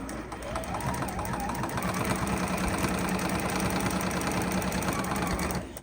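A sewing machine runs steadily as it stitches quilting fabric, giving a close, continuous mechanical whir with a rapid needle rhythm that starts up and stops near the end; no speech over it.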